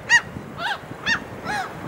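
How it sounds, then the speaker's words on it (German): Four loud, honking gull calls ring out one after another at a steady pace, close by on the coast near Travemünde, each a short harsh squawk with a faint hum of wind between. "Und die Möwe hört sich an wie ein Hahn"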